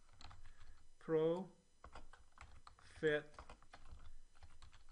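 Quick, light clicks of a computer keyboard as someone types into an Excel spreadsheet, a steady patter of keystrokes with two short bursts of speech.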